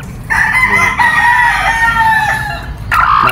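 Gamefowl hens and a rooster at a game farm: a close, loud rooster crow rings out with clucking around it, and a second crow begins just before the end.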